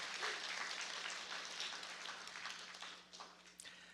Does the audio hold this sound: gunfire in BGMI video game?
no